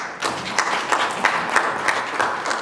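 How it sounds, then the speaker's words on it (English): Audience at a South African local government conference applauds a presenter with steady, dense clapping that holds at an even level throughout, with no voices over it. "A round of applause for her, please."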